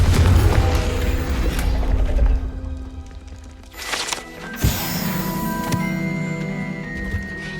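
A Confringo spell in Hogwarts Legacy blasts out with a loud, low rumbling burst, then fades into quieter mechanical clicks, a sharp crack and a thud, with faint ringing tones afterward.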